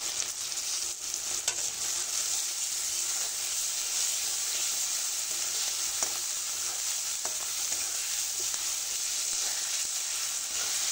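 Snakehead fish fries in a pan with a paste of onion, garlic, cumin, turmeric and salt in a village kitchen, giving a steady loud sizzle and hiss throughout, broken by occasional faint scrapes of stirring.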